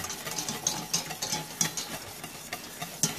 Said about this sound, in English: Okay, so I'll let the roux cook down a little bit.